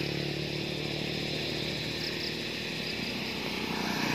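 A Bajaj motorcycle engine runs with a steady, close, unbroken drone that holds at one level throughout.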